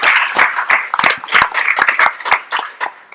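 An audience at a conference session on criminalization and policing claps in a dense, steady round of applause that continues for a few seconds and then thins out.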